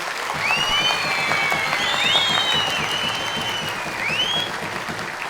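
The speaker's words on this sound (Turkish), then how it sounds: "Öğretmenlerimize kocaman bir alkış." Steady applause from a crowd for teachers at a student quiz contest fills the whole stretch, with thin whistling tones sliding up and down above the clapping.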